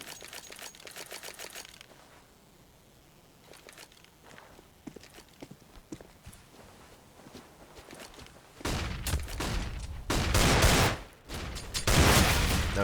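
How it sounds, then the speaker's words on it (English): Counter-Strike gunfire on de_dust2 during an esports match: scattered game shots and footsteps early on, then dense, loud bursts of rapid fire build toward the end. "Didn't get the shots he wanted to, but Crispy gets 2."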